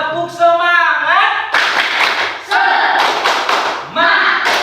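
A school class performs the rhythmic 'tepuk semangat' clapping chant together, sharp group claps in a patterned beat alternating with shouted chanting voices, loud and close.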